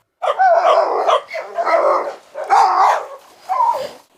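Several dogs bark in a garden, including a Kangal, a Rottweiler and a Pitbull, in four loud, close bursts of rough, growly barking separated by brief pauses.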